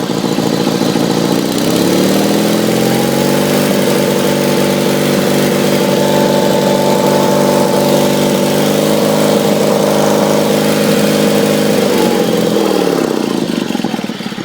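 A 1974 Sears Suburban SS16 garden tractor engine held at half throttle, a steady mid-pitched buzzing drone that rises after a second or two, holds evenly up close, then drops back toward idle near the end, no talking.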